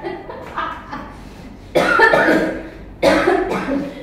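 Two loud, harsh coughs ring out close by, each a burst of hacking, following softer throat noises.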